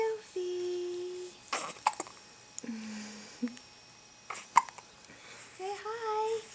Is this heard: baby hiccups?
yes